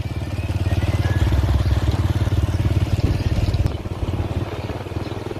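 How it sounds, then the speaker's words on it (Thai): A motorcycle rumbles along at a steady ride, its engine loud and close, with a constant low throbbing pulse that dips slightly near the end. "อันนี้กำลังขี่รถมา"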